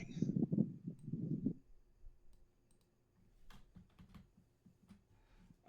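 Computer keyboard typing, quiet irregular clusters of key clicks, with a denser rattle of keystrokes at the start followed by sparse, soft taps.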